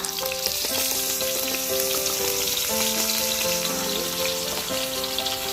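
Pork frying with sugar and fish sauce in a hot pan gives a loud, dense, continuous sizzle and crackle, with occasional stirring underneath and no voices.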